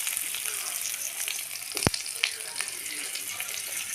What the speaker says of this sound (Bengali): আলুটা ভেজে নিব হলো।